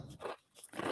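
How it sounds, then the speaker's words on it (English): Crunchy Chex Mix snack gets chewed up close, two crackly crunching bites separated by a brief pause, fairly quiet and with no talking. "Is that chewing throughout?"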